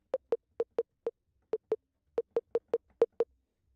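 Percussion sample in an FL Studio ambient type beat: short, sharp clicky hits in a syncopated pattern of about fourteen strikes, dry and isolated with silence between.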